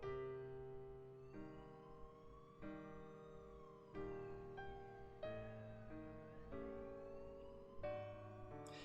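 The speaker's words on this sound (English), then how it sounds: "In the distance, she could faintly hear the sound of police sirens." Police sirens from the 428: Shibuya Scramble game, wailing in repeated rising and falling sweeps at a distance, soft and steady with no voices.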